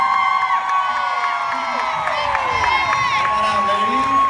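A workshop audience at a 2015 summit cheers, whoops and claps to welcome two speakers onto the stage, a loud, steady crowd roar with high shouts running through the whole stretch.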